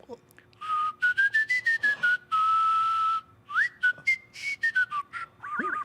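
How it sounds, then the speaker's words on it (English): Someone whistles with the tongue and no lips, a wavering melody in short and long bursts with sliding pitches, clear and close, with no talking. "I whistle with my tongue, no lips"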